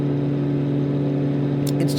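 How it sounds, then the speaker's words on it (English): Twin-engine Cessna 414 piston engines drone steadily in a flight simulator, a constant, loud low hum with stable tones that holds throughout, joined near the end by brief higher hissing bursts. "it's just nice to have another twin-engine Cessna in the sim."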